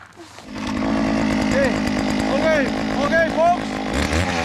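A gas-powered ice auger roars to life and drills through lake ice, its engine buzzing loudly up close with rising and falling revs as it bites in.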